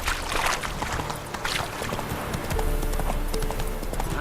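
A horse trots along in The Witcher 3: Hearts of Stone, its hooves clip-clopping in a steady rhythm under a dense wash of ambient game sound.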